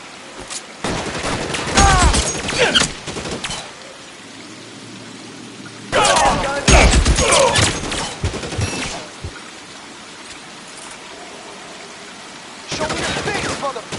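Bursts of rapid gunfire from the video game L.A. Noire, in three dense, loud volleys separated by quieter gaps, with a rattling, crackling texture.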